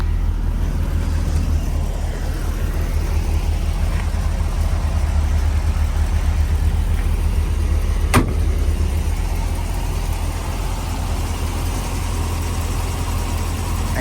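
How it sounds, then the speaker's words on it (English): A 1964 Chevrolet Corvette, frame-off restored, idles with a mild, steady low exhaust rumble that holds evenly throughout, close by and constant, with one brief sharp click partway through. "Nice little rumble with the exhaust, not too much though."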